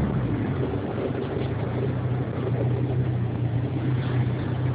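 Steady engine roar from a VW Golf 1.6 fitted with an Audi TT 1.8 20V engine, revved lightly, a continuous broadband rumble heard close with no clear rise or break across the few seconds.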